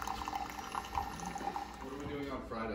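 A new Keurig coffee maker trickles and splashes liquid as it heats water and dispenses coffee in a home kitchen, a soft continuous pouring under faint background talk.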